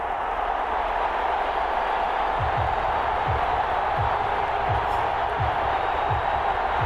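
Video-game NFL stadium crowd in Madden 21 before the Philadelphia Eagles meet the New Orleans Saints, a steady loud roar of cheering fans filling the whole clip with murmured voices within the mass.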